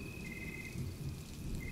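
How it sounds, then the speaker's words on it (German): Steady rain weather effect in the Planet Zoo zoo-building game, a continuous wash of falling rain with low rumbling underneath and a faint high tone, holding evenly throughout with no talking. "ob ich den Regen ausstellen sollte oder nicht."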